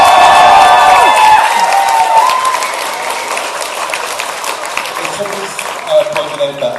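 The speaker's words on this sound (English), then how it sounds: "So, give a really big applause for Phil." Large convention crowd applauding and cheering at the closing ceremonies of EIRTAKON 2009, loud and dense at first, then easing into scattered clapping with voices talking over it.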